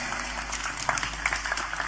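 Audience at an Islamic religious lecture by Gus Muwafiq in Indonesia clapping steadily, a continuous wash of applause from a crowd with a low hum underneath.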